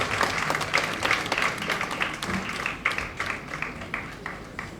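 A conference audience at a political financing dialogue in Ghana gives a sustained round of applause to welcome a speaker, steady clapping at moderate distance with a few louder claps standing out.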